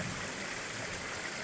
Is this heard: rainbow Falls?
yes